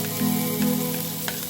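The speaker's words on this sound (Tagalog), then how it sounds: "Heat some oil on the pan and saute garlic." Garlic frying in hot oil in a pan, a steady close sizzle with a faint low hum underneath and a couple of small stirring scrapes, no voices.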